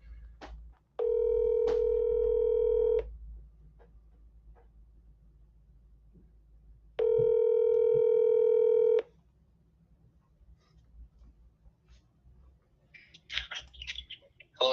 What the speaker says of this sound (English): let's call up Dave here